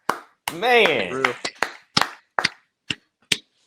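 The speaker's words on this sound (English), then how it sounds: "Let's give Doug Pearson a round of applause, guys" A single person claps slowly and distinctly about eight times, each clap close and crisp with silence between, after a brief burst of speech.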